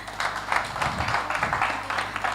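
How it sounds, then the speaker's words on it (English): Audience applause at a fintech hackathon event, a steady wash of hand claps lasting throughout, moderately loud and fairly close, with no talk over it. "Once again, let us applaud him."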